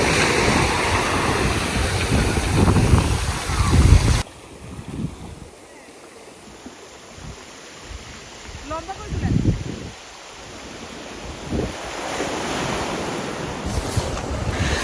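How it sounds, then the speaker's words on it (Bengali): Cold sea waves rolling onto the shore, a loud continuous wash and surge with heavy wind buffeting the microphone, swelling and easing over time. "দেখো ইয়া আসতেছে, সমুদ্রের ঢেউ আসতেছে।"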